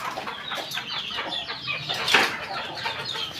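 Chickens kept in a rooftop coop cluck and squawk in short overlapping bursts, with some wing rustling, close by and fairly loud, without any talk.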